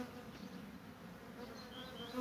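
Honey bees at a framed beehive, a soft, continuous buzzing hum from many insects, faint and steady throughout, with no talking.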